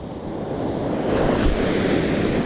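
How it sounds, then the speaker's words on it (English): Sea waves break and wash up onto a winter beach at dusk during shore fishing, a loud continuous roaring surf with gusty wind buffeting the microphone and a swell building toward the middle. "let's wait for the waves"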